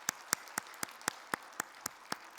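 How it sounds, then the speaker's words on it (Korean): Slow, evenly spaced claps, about ten sharp hits in steady rhythm, fairly faint and alone, during a Friday church worship gathering. "박수로 격려해드리도록 하겠습니다."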